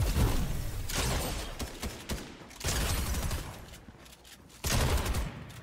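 Gunfire in an online shooter video game, several loud bursts of rapid shots spaced a second or two apart, close and dense.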